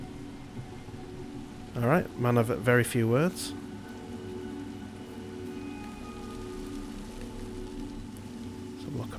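Steady rain in the video game Sifu hisses as a constant soft wash in the background, with someone speaking briefly over it.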